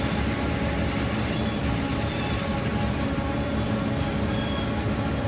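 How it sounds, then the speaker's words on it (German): Trains in the simulation game Transport Fever 2 make a dense, steady rumble of wheels and carriages. The roar holds at an even level throughout, with a faint high squeal on top and no voices. "Und da kommen ordentlich Züge rein und raus."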